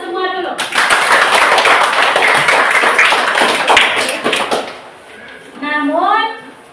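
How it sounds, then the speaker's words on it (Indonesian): A classroom full of students breaks into several seconds of dense, steady applause for their performances, loud and close. A teacher's voice is heard just before the clapping and again as it fades. "Kita berikan aplaus untuk kita semua dulu."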